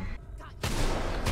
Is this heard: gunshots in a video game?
yes